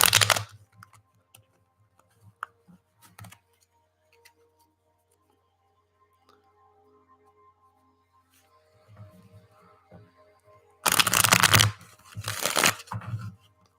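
Cards being shuffled in a quiet late-night setting: a riffle at the very start, scattered soft ticks and taps, then two loud bursts of shuffling near the end, heard alone without talk.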